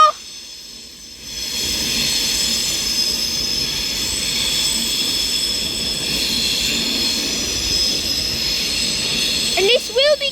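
Avanti West Coast Class 390 Pendolino at London Euston, a loud, steady electric hum and rolling rumble with high whining tones, ending in brief wheel squeals.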